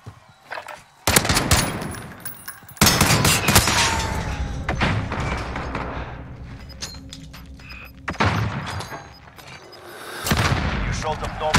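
Rapid automatic fire from a Grau rifle in Modern Warfare Warzone, loud bursts of shots with brief pauses, heavy thumps and a few booms mixed in, continuing through most of the stretch.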